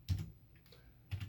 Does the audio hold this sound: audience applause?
no